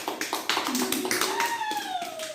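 Several sharp hand claps spaced about half a second apart, close by, with a voice and sustained tones running underneath.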